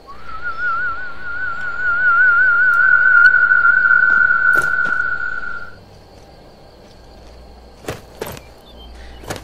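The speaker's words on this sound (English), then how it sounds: "I need my horse whistle." A horse whistle in the Skyrim video game sounds as one long, loud warbling tone lasting about five seconds, then fades into quiet room tone broken by a few sharp clicks and footsteps.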